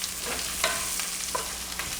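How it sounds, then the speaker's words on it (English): Scrambled eggs sizzle steadily in a frying pan while a utensil stirs them with soft repeated scrapes, close and continuous with no talk. "Start mixing it all. Of course, this is scrambled egg,"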